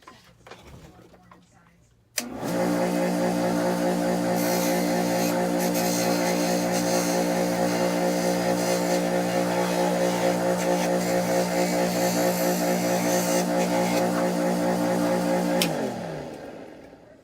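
A motorized fiber wheel buffer polishing a twisted fork ring spins up abruptly and holds a loud, steady whirring drone with harmonic hum, then winds down at the end; faint handling noise comes before it starts.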